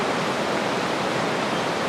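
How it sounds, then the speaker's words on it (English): Rushing water of Woods Creek, a mountain stream on the John Muir Trail in the Sierra: a steady, loud, broadband roar with no break, heard alone. "Woods Creek"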